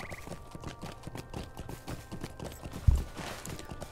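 Horse hoofbeats while riding in Lord of the Rings Online: a steady, rapid clip-clop of hooves at a brisk pace, moderately close, continuing without a break for a few seconds with a faint low background.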